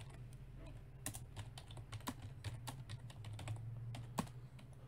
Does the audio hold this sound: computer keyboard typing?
yes